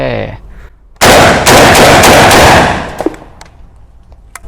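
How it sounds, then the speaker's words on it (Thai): A Hunt Group FD12 bullpup shotgun firing birdshot rounds: a very loud, close burst of rapid reports run together for about two seconds, followed by a few sharp clicks and clatters as things settle. "ห้านัดไม่มีติดขัดเลยนะครับยิงได้ลื่นไหลามาก"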